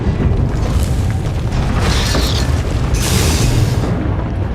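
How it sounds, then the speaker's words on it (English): A deep, continuous ground-quake rumble from the video game Star Wars: The Old Republic, loud and steady throughout with gritty, roaring texture and no speech. "The ground quakes will not impede me."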